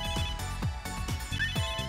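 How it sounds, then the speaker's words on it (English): A cell phone ringtone in the Megadimension Neptunia VII video game plays a rapid, repeating electronic melody, loud and close, with several sharp pulses in under two seconds. "It's my angry ringtone."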